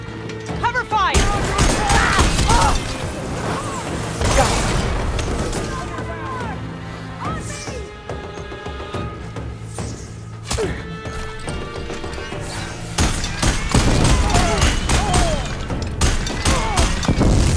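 Combat fire in Horizon Forbidden West erupts in loud, dense volleys of shots, thuds and booms, repeated bursts close by with heavy impacts, under shouting voices during battle.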